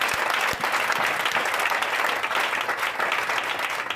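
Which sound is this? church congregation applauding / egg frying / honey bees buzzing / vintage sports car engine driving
church congregation applauding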